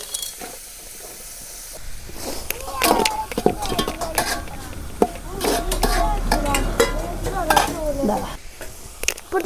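Garlic, onion and capsicum stir-fried in a pan, sizzling and hissing under repeated scrapes and clinks of a spatula against metal, close and busy, with a little voice in the background.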